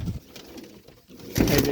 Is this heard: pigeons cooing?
yes